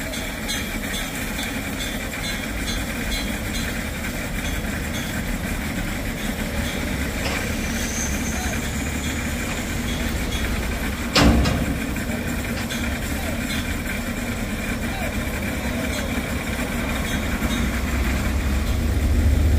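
A heavy tow truck engine labours steadily while hauling an overturned Hino 500 FM 260 TI truck up from a hole, a constant low rumbling drone with one sharp clunk midway, voices faint underneath.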